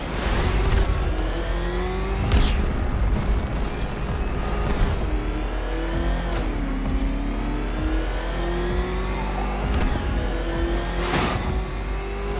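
Batmobile engine in Batman Arkham Knight revving and accelerating, a loud close whine that rises and falls in pitch, punctuated by several sharp bursts.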